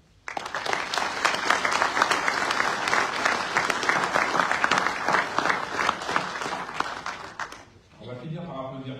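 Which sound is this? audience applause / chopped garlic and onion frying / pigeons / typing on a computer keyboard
audience applause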